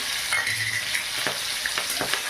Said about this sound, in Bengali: এবারে কেটে রাখা টমেটো কুচি আর কাঁচা লঙ্কা এর মধ্যে দিয়ে দিলাম